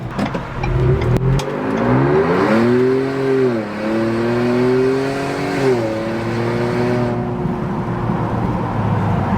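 Loud supercharged engine of a 2022 Ford Bronco revving up and down in sweeping pitches during a burnout, roaring close by with rising and falling tones, tires spinning hard.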